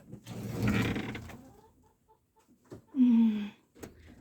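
Backyard chickens at a country dacha give soft scattered clucks, then one louder drawn-out squawk, close by and otherwise quiet.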